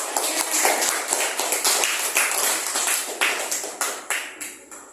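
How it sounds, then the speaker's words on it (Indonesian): Children in a classroom clap their hands, a quick run of sharp, close claps, fairly loud and tapering off at the end. "Ayo tepuk tangan untuk"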